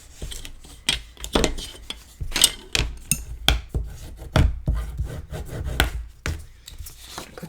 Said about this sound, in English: good burnish, get it nice and flat